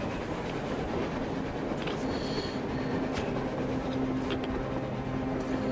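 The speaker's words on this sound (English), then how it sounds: "A train! A damn train on the surface!" Train in the Metro Exodus video game rumbling past on the surface, a steady heavy rolling roar with faint metallic squeals and clanks, continuous and fairly close, with no talk.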